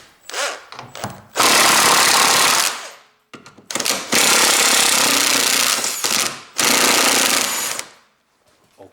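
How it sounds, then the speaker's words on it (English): Electric impact driver rattling out bolts while a car's power steering rack is being replaced, loud close hammering bursts in three long runs separated by short pauses, with no talking. "I can use my electric impact driver and take these bolts away"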